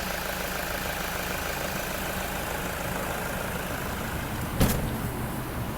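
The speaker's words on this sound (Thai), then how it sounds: "ตอนนี้เราสตาร์ทเครื่องยนต์ อยู่นะคะ คุณลูกค้าฟังเสียงเครื่องยนต์ได้เลยค่ะ" A 2016 Toyota 3.0-litre diesel van engine idles steadily and alone, a continuous low rumble with one brief louder knock or thump near the end.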